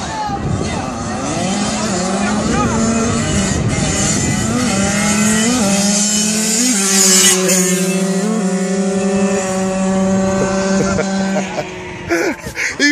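Two Yamaha YZ85 dirt bikes race together, their engines droning steadily with rising and falling pitch as they shift, loud and continuous, while people talk nearby.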